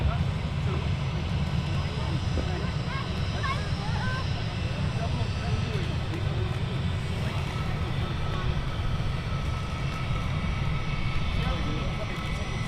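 A British Airways A320, an older jet with long skinny engines, roaring steadily at Manchester Airport, a loud sustained rumble and whine that holds throughout, with a voice faintly talking over it.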